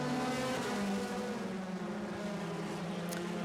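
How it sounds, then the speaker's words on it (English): Race cars at Road America roll past the start-finish line, a continuous engine drone that swells and then eases as they pass, heard from close by with no talk over it. "Watching the cars roll by me here on start finish"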